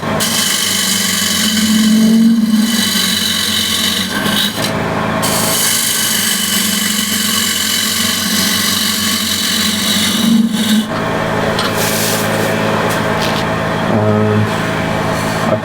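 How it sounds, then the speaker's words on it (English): Continuous loud whirring of a wood lathe with a square scraper cutting into the inside of a spinning wooden bowl, a steady rough scraping hum with brief dips as the tool lifts, close and without speech. "I'll use a square and scraper just to make this a little deeper."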